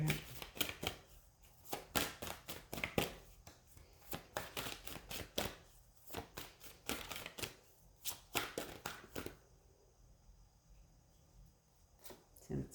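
A deck of cards being shuffled repeatedly, with quick riffling bursts and soft taps, close and fairly quiet, with occasional pauses.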